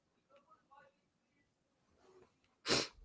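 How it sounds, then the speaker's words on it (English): After a few faint breathy sounds, a single loud, close allergy sneeze bursts out near the end. "That's the allergies that be having me sniffling and sneezing."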